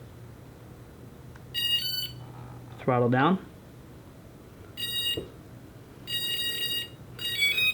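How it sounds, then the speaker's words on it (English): A race quad's electronic speed controller beeps during throttle calibration: short high tone bursts sound in several separate groups, with a rising multi-tone chime partway through, and a voice speaks briefly between them. "I'm going to plug it in. You're going to hear 2 beeps."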